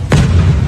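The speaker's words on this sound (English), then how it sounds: "Someone's lighting off fireworks." Fireworks go off outside during a radio show: a single loud, deep boom with a sharp onset that rumbles briefly.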